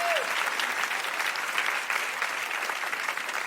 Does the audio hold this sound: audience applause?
yes